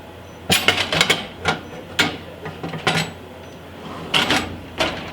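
A screen-printing screen slid into a drying cabinet, heard as a close series of sharp clacks, knocks and rattles in irregular bursts, with quiet pauses between them.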